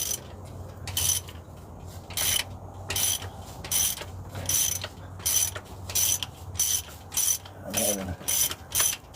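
A hand ratchet loosens engine cylinder head bolts with a rapid, regular clicking in repeated close bursts, each stroke a quick metallic ratcheting pass, and no talking.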